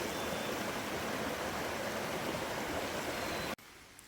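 A raging mountain creek rushes loudly and continuously in a broad, hissing roar close by, cutting off abruptly near the end to a much quieter background.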